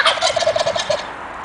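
A pet turkey gobbles close by in a quick run of bright, rattling notes that fade out toward the end, with no talking over it.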